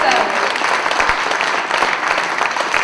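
An audience at a French-language slam poetry competition applauds a poet after the jury scores are read, a dense, steady wash of many hands clapping close and loud throughout, with a few voices mixed in.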